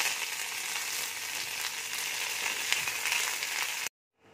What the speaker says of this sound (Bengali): এবার আমি কারি পাতা দিয়ে দিচ্ছি।